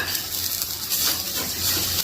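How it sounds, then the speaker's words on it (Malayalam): Grated coconut stirred in a frying pan, a steady soft sizzle with faint scraping, close and continuous, with no talking. "2 മിനിറ്റ് നമ്മൾ നാളികേരം ഇട്ടിട്ട് നന്നായിട്ട് ഇളക്കി കൊടുക്കുക"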